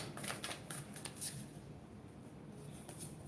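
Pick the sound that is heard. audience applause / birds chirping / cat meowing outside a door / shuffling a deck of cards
shuffling a deck of cards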